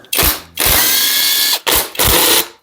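Power tool or ratchet loosening 13 mm bolts holding the AC compressor on a supercharged Audi 3.0T engine, loud close mechanical whirring in several separate bursts with short pauses between.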